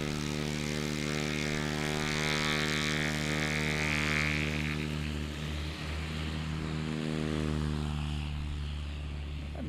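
A Rotax 914-powered Super STOL plane at a STOL competition in Central Florida, its propeller engine droning loud and steady with a strong buzzing tone, swelling slightly mid-run before holding on.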